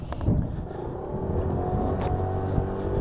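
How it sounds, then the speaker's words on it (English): A Lexmoto Echo Plus 50cc motorbike ridden on the road, its engine giving off a low, steady, quiet hum with a few faint bumps and some wind noise. "very quiet purr from that engine"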